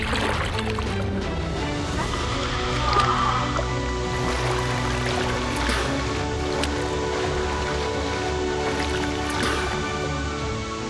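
A waterfall in a hidden canyon in Oman, heard as a steady, fairly loud rush of falling and splashing water with trickles and drips, continuous throughout with no talk.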